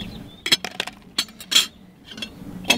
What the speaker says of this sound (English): First, I put some lemon ice in that I make, some lemon ice cubes.